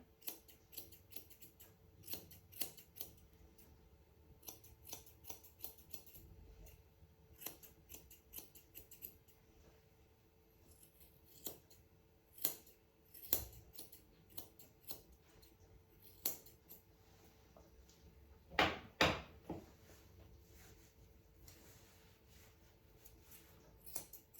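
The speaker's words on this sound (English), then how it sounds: "And then we're going to trim off everything up to the corner of the eye." Small scissors trim a schnauzer's hair around the eye in sparse, soft snips, irregular and close, with a couple of sharper snips near the end.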